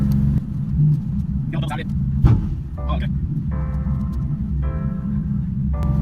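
A car driving with the steering wheel turned back and forth: a steady low engine and road rumble throughout, broken by brief intermittent squeaks and creaks.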